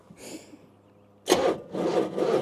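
A 1964 Chevrolet Impala wagon engine cranks hard and labored. The starter churns in loud, close, rough bursts that break in after a quiet moment and repeat with a slight pause between them.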